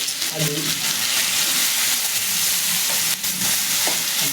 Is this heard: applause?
no